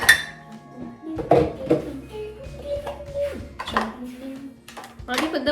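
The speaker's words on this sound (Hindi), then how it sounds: "अभी ये डिश वॉशर लगाने के लिए भी एक अलग मेहनत करनी पड़ रही है" Dishes, pots and cutlery clink and clatter while being loaded into a home dishwasher, a series of close, uneven knocks and rattles with a voice talking over them.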